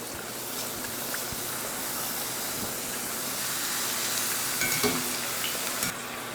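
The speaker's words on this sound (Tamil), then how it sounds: "இப்போ வந்து எண்ணெய் காய வச்சு எண்ணெய் காஞ்சிருச்சு. இப்போ உருளைக்கிழங்கு போட்டுக்கலாம்." Potato slices deep-fry in hot oil with a dense, steady sizzle and bubbling hiss, close and continuous, with small stirring clinks near the end.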